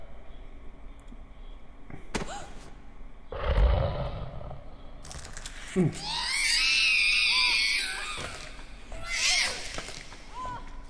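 Shrill, wailing scream of a poisonous plant creature in the horror game Haunting Ground, rising over a low rumble and thuds, with a long, warbling cry in the middle and a shorter shriek near the end.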